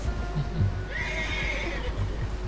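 A horse in Red Dead Redemption 2 lets out a loud, clear whinny mid-clip, while hooves clop steadily through the background from start to finish.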